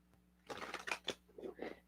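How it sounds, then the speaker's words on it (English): Playing cards being shuffled during a tarot reading, a few soft riffling bursts close by, spaced over a second and a half with brief pauses. "One more shuffle."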